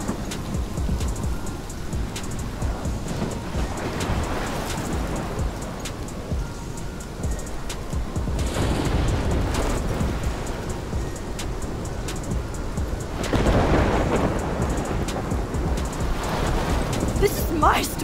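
Heavy rain hisses steadily through a thunderstorm in the video game Life is Strange, with swelling gusts and rumbling surges rising and falling throughout, loud and enveloping.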